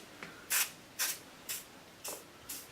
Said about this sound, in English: let's put a little WD-40 on it